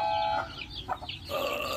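Desi chickens cluck and call close by with chicks around, a run of short clucks and brief squawks that swell toward the end.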